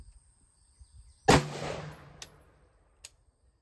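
Single shot from a short-barrel AR-15 firing 55 grain 5.56 ammunition: one sharp, loud crack with a brief ringing tail, followed by a few small metallic clinks and faint ticks in otherwise quiet surroundings.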